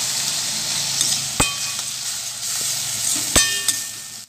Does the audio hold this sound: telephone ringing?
no